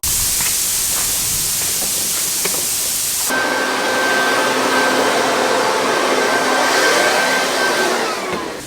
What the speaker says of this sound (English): I'm going to have to vacuum it out before I get down in there.